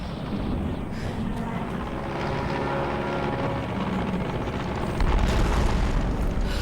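A large airplane explodes in Tomb Raider, heard as a continuous loud roaring rumble like rotors or burning engines, swelling into a heavier boom near the end, with no voices.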